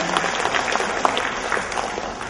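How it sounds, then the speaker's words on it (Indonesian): Audience applause at a formal ministerial event with a moderated talk session, a short burst of dense clapping heard close and fairly loud. "Tepukan"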